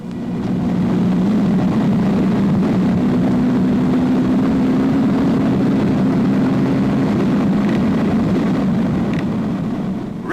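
Stirling Moss's 1957 record car tears away on a speed record run, a loud, sustained engine roar with a steady droning pitch that holds strong for the whole stretch before easing slightly near the end.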